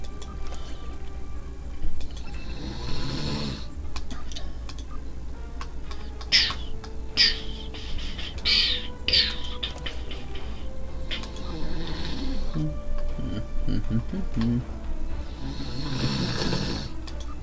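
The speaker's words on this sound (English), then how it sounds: "I apologize for the snoring" A person snores steadily through a long stretch, rough rasping breaths recurring every couple of seconds, fairly close and loud over a constant low hum from a computer game playthrough.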